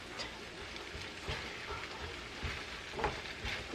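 Pancit frying in a pan in a small apartment kitchen in Japan, giving a steady close sizzle with faint stirring ticks and a few soft bumps rising above it.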